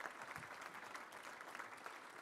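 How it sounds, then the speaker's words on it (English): Audience applause at a Little Rock Touchdown Club luncheon, a steady dense clapping that fills the whole stretch at moderate distance, with no voices over it. "Let's give another round of applause."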